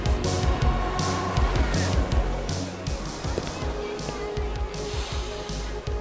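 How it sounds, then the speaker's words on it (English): Race car engines at the Jeddah Corniche Circuit, a fast street track at the Saudi Grand Prix, roaring past in repeated bursts that swell and fade over crowd and ambient noise, fairly loud and heard from trackside. "And the sounds of the race car engines zooming around the track."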